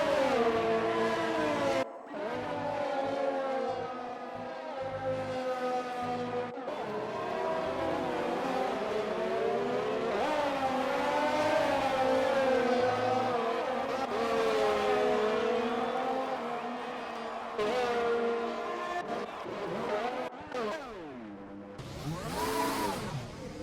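Formula-style race car engines, including a Renault and a Williams, in a racing video game at an Australian round, whining continuously at high revs with rising and falling pitch as gears shift, loud and unbroken.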